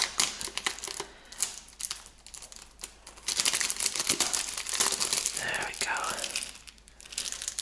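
Dense, crackly crinkling of a plastic bag being removed from a Nintendo Switch game box close by, irregular rustles building louder in the second half with no talking.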